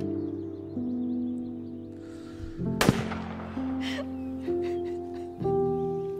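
A firing squad in the video game A Way Out lets off a sharp volley around mid-clip, with fainter shot-like cracks after it over a sustained musical score.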